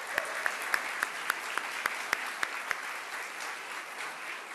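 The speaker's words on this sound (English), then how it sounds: "that deserves a round of applause right there" Applause at a press conference with Mayor Gray, with sharp, evenly spaced close claps from one person standing out over a softer room of clapping that fades toward the end.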